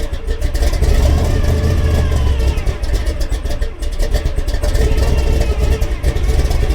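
A 1976 Ford F100 pickup engine running rough after starting, a loud close rumbling idle with uneven clattery pulses throughout.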